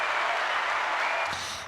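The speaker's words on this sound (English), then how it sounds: "I'm gonna do some claps for all those three people right there." Hand claps at a bar and lounge performance, a dense steady round of clapping heard up close that tapers off near the end.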